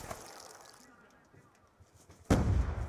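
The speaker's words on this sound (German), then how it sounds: "Da war eine Granate." A grenade goes off in the Black Ops 2 video game, a sudden loud broadband blast near the end that follows a quieter stretch of game noise.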